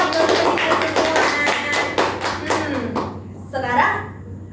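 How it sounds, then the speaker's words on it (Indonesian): A class of children claps hands together in a classroom, a run of quick, close, fairly loud claps for a few seconds that stops, followed by children's voices speaking. "Yeay, kasih tepuk tangan semua."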